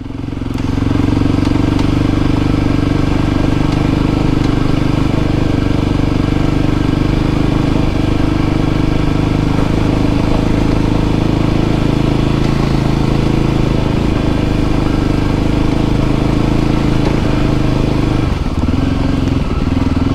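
A Voge 300 Rally motorcycle engine drones steadily while riding a rough off-road track, loud and close, with wind rumble and occasional clattering bumps near the end.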